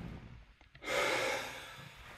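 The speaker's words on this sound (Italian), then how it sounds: "Mi rifai un bel respirone a bocca aperta." A deep breath drawn in through an open mouth during a chiropractic massage session: a soft, airy rush that begins about halfway through and holds steady, with quiet room tone before it.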